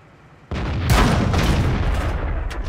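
A tank cannon fires in World of Tanks: a sudden loud boom hits and then rolls into a long, rumbling echo that keeps sounding to the end.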